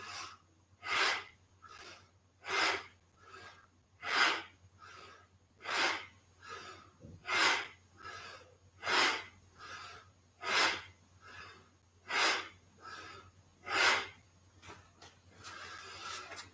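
Slow, regular breaths as a person does a breathing exercise, each forceful exhale and inhale rushing close to the microphone at about one breath per second over a low steady hum.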